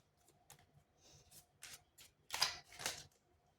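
Tarot cards being shuffled in a quiet room, a run of soft riffling bursts that builds to two louder, fuller shuffles near the end, with no talking over them.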